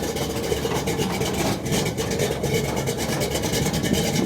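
A 1980 Chevrolet C10 truck with a rebuilt engine and Comp Cams Thumpr 279 camshaft rumbles at a steady, loud idle, a dense low throb filling the air with no talk over it.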